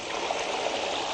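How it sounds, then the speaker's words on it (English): Water released from a reservoir gushes beneath an undershot water wheel, a steady, close rushing flow with no talking. "and it gushes below the wheel, and it turns the paddles"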